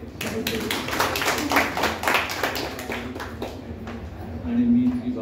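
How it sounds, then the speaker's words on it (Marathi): An audience at a community association meeting claps to welcome a speaker after a talk on ancient Western philosophy; a burst of close, dense hand claps runs for several seconds under a speaking voice. "त्यांचं टाळ्या वाजवून स्वागत करू"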